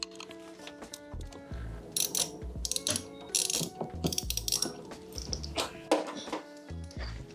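A ratchet wrench clicks in quick bursts as the negative battery terminal is loosened on a supercharged L322 Range Rover, with short rapid ratcheting runs and pauses between them, close and fairly quiet.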